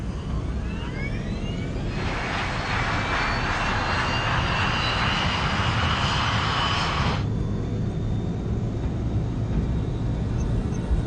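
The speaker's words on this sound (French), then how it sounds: "Korean 8509, autorisation de décollage, piste 2-3." Jet engines of a Korean Air 747 cargo airliner roar steadily on the runway during the takeoff roll. A loud, broad whine swells for several seconds and then drops back to a constant rumble.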